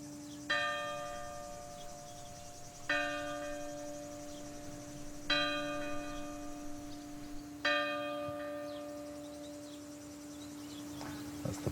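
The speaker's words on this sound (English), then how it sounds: "That's the 6:05 bell." A church bell rings the 6:05 hour in a French onion-growing village, with four evenly spaced, clear resonant strikes hanging over a steady drone of crickets in the open countryside.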